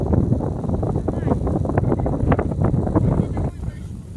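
Strong wind roars steadily across the microphone during snowkiting in winter, a loud, constant rushing that fades slightly near the end.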